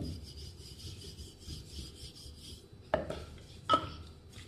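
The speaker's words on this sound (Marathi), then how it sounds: "जाडसर लाटायचा पराठा।" A rolling pin rubs and scrapes over stuffed spinach and green pea paratha dough, a soft, steady rasping close by that ends in two sharp knocks.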